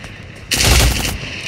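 Dual pistols firing in the video game Cyber Hunter, a single sharp loud burst of rapid gunfire lasting about half a second, then fading.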